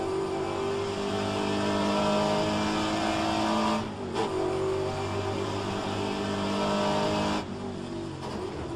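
A car engine revs loudly and steadily in a harmonic drone, with two brief dips near the 4 and 7.5 second marks, apparently at a racing venue at Mont Tremblant; no voices.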